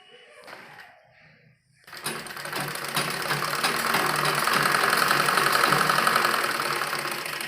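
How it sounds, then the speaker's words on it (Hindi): A sewing machine stitches a simple kurti. It starts with a few faint taps and a brief pause, then runs in a steady, loud mechanical whir with a rapid rhythmic clatter that builds slightly and holds. "आप सीधे भी इसकी सिलाई कर सकते हैं"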